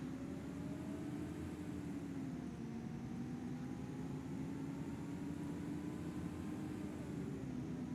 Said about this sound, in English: That fan's come on very early.